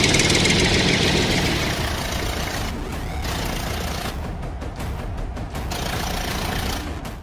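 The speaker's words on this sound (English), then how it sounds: "tractor with baller," A tractor with a baler attached runs its engine at idle, a steady close, heavy rumble with a faint knocking texture and slight fluctuations throughout.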